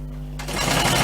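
A sewing machine stitches the seam of a leather bushcraft water bottle pouch, starting up after a low hum into a rapid, steady mechanical whir close by.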